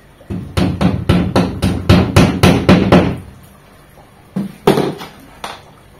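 Rapid hammer blows driving a wall plug into a wall, about a dozen sharp strikes in quick rhythm, close and loud, followed by a pause and a few more taps.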